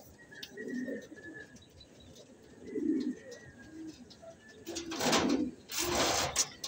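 A racing pigeon at a club loft gives several low, soft coos spread through the clip, alongside faint chirps. Near the end, louder rustling bursts break in.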